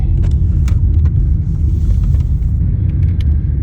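A Jetta with newly replaced sway bar end links drives steadily along a road, with a constant low engine and tyre rumble and faint higher ticks and rattles.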